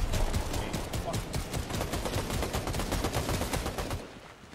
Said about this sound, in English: he's like shooting at me